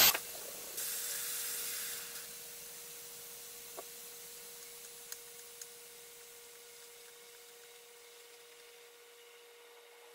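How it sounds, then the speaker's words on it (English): An Instant Pot releases pressure through its valve while cooking black beans: a loud, steady steam hiss at first that eases into a long, fainter continuous rush with a faint steady tone and a few small clicks. "go ahead and press your button, let the steam out"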